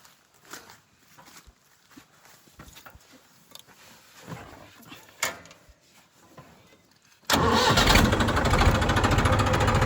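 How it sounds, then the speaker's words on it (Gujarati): A tractor engine cranks and then roars to life, running loud and steady close by after a stretch of quieter rustling and knocks. "પહેલાં આપણે ટ્રેક્ટર બહાર નીકાળી લઈએ"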